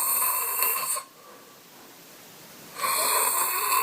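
Loud snoring from a man asleep, with a nasal airway problem following a car accident: two heavy, rasping snores, close and alone, separated by a quiet breath-in.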